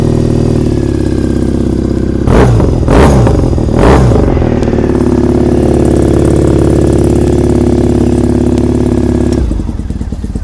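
A motorcycle engine on a cold start, running on full choke at around 2300 RPM, holds a loud, steady, close high idle. A few brief blips of extra revs come early, then it runs evenly before dropping off at the end.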